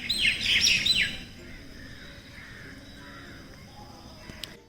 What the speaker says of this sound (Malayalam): ഒരുപാട് കിളികൾ ഈ മരച്ചില്ലയിൽ ചേക്കേറിയിരിക്കുന്ന അതിൻ്റെ സൗണ്ടാണ് ഈ കേൾക്കുന്നത്